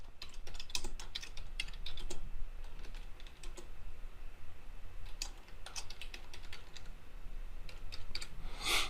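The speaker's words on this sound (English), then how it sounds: "in this text layer, just like before, we can type in what we want." Steady typing on a computer keyboard, close and clear, with irregular clusters of keystrokes and brief pauses over faint background hum.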